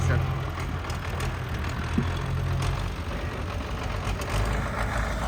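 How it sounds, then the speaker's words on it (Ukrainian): A Galtech front loader on an MTZ-80 tractor loads sunflower seed, its diesel engine droning steadily at close range along with a broad rumbling wash, while someone talks over it. "самий сакральний процес завантаження соняшника навантажувачем Галтех на базі МТЗ-80"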